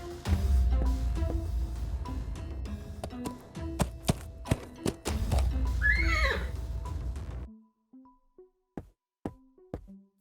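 A horse in the video game Willy Morgan and the Curse of Bone Town whinnies loudly mid-clip, with clip-clopping hooves and scattered knocks before and after.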